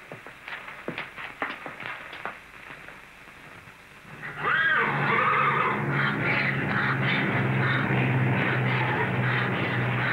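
Scattered knocks and thumps give way to a loud, close horse whinny, followed by continued snorting and shuffling noise.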